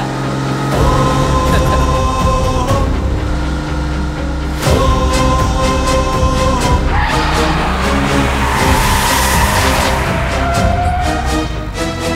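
A car driven fast in a Tamil movie scene, with loud engine roar and shifting revs layered under heavy dramatic music that keeps running for the whole stretch.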